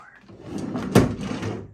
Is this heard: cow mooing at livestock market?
no